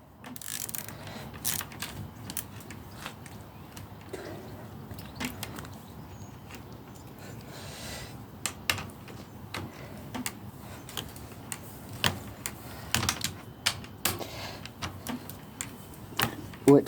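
A ratchet tool clicks in repeated bursts while the bolts on a mountain bike's rear wheel are tightened, close and fairly quiet over a low background, with occasional sharp ticks.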